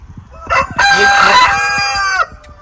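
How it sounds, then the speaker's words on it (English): A rooster crows loudly and close by, one long drawn-out call rising and holding before cutting off, with a few clucks around it. "Excuse the rooster. He does not know when to shut up"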